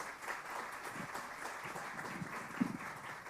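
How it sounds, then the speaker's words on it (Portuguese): An audience at a legal panel applauds steadily, a continuous patter of hands at moderate distance for a few seconds. "Uma salva de palmas a todos."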